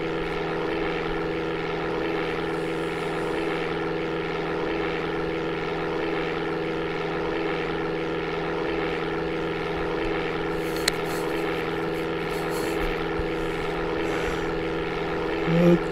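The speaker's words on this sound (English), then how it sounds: "There goes our engine again." Steady propeller drone of a light aircraft engine in the Amiga game Flight Simulator II, a continuous even hum with a single click near the end.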